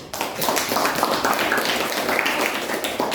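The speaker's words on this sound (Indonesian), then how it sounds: "tepuk tangan dulu untuk" A classroom group claps for a student project presentation in a teacher-training session at an Islamic university: dense, continuous applause from many hands, fairly close, lasting the whole stretch.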